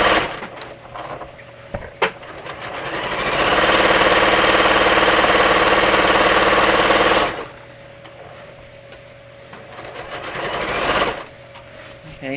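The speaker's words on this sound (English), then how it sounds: "I can now sew the crotch shut, and I'm going to start up at the top." A sewing machine runs steadily for several seconds, stitching the crotch seam of a pair of trousers, with quieter handling noises before and after the burst.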